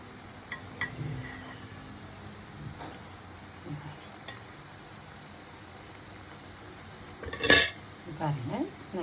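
Sikadai dough frying in a pan of oil gives a faint, steady sizzle, with light stirring and a brief clatter of utensils near the end.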